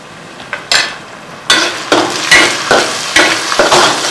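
Sliced onions with salt fry loudly in a pan for a chicken liver fry, with a steady sizzle broken by several sharp scrapes and stirs of a utensil, close and without any talk.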